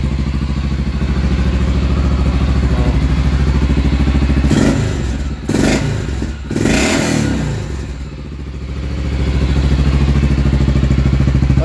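A Yamaha FMX 650 motorcycle with a choke problem idles loudly and close, its engine throbbing steadily, then is revved in a few uneven bursts before it settles back to a lumpy idle.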